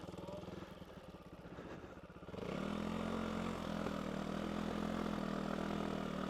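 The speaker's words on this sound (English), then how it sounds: "Bit of horrendous clutch slip there." A dirt bike at very low speed with a slipping clutch: the engine's uneven chug swells into a raised, droning whine held steady for several seconds, close by and fairly quiet.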